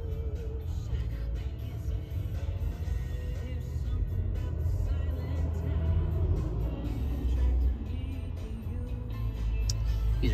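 A 2011 Toyota FJ Cruiser on a test drive gives a steady, close engine and road rumble inside the cabin, with a few faint ticks over the continuous drone.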